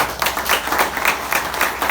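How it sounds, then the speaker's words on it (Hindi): Hands clap at a team training session, a continuous, fairly loud run of claps that blends into applause-like patter across the whole stretch. "मैं तालियां बजा रहा हूं।"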